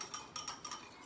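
A whisk clicks rhythmically against a cup while instant coffee is whipped by hand for dalgona coffee, giving about five quick, evenly spaced metallic taps, close and fairly quiet.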